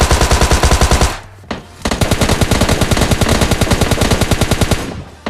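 Gunfire during a fight in PUBG Mobile Lite: loud rapid automatic bursts close up, a fast stream of shots that breaks off briefly near the second mark and then resumes in a long sustained volley.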